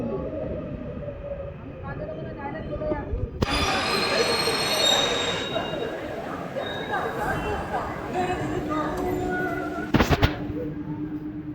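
A Kolkata Metro train runs between Dum Dum and Jai Hind with a steady loud rumble, then a sharp, bright wheel squeal breaks in and persists for several seconds, with a brief clank near the end and faint voices underneath.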